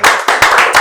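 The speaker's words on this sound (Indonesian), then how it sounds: "Tepuk tangan dong" A short burst of audience applause breaks out at an event in Pekanbaru, dense and close, swelling in three quick waves of clapping.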